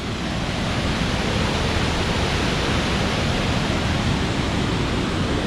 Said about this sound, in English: Very big waterfall there going down into the gorge.